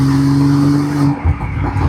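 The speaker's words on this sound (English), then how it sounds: "the intake sounds crazy with the exhaust quiet" A BMW M340i with the B58 engine is driven with its exhaust valves closed, and the intake gives a loud droning hum with a steady pitch. The hum then cuts off into rougher, lower rumbling and shifting road noise.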